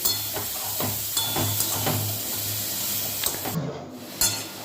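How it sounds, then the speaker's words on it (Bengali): Ridge gourd stirred with spices and green chillies in a frying pan: a soft sizzle with repeated scraping strokes of a spoon and a few clinks, close up and unaccompanied by speech. "এবার ভালো করে মশলার সাথে ঝিঙেটা মিশিয়ে নিচ্ছি"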